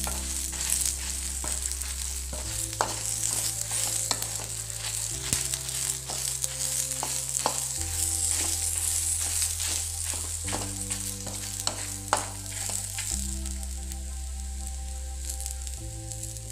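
Anjal fish sizzles steadily in a hot pan with oil, a continuous crackling hiss broken by occasional sharp pops and scraping stirs, close and fairly loud throughout with no voices.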